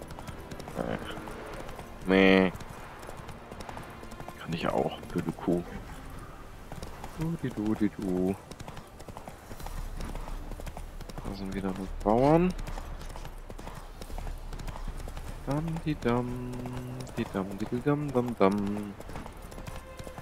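Horse hooves clip-clop at a steady trotting rhythm while riding in The Witcher 3: Wild Hunt, carrying on beneath near-constant German male speech and some humming.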